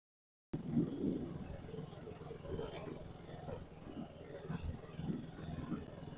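A KTM Duke motorcycle ridden along a road toward Panshet, its engine and road noise a steady low rumble throughout, with someone talking over it.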